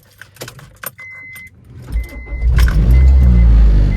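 Honda CR-V engine cold start after keys jangle and the ignition chimes; the starter catches and the engine fires into a loud, deep, steady idle close by.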